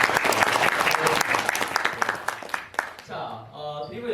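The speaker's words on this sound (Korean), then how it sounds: "그래서 우리 한번 다시 한번 박수 한번." A church congregation bursts into loud, dense applause that fills the room, then thins and fades out near the end as a voice is heard speaking over it.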